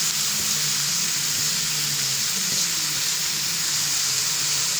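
Chopped colocasia leaves and stems frying in a pan for a thoran with green chilies, giving a steady, loud, continuous sizzle and hiss with no talking.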